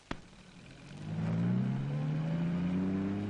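A sharp click comes first. About a second later a car engine catches and rises into a steady, humming drive as the car moves off, quiet and without voices.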